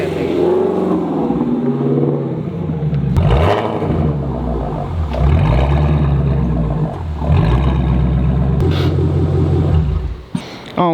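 A Shelby GT350 rumbles close by, its engine surging and easing in deep, throaty swells that pulse through the clip, with no talking over it.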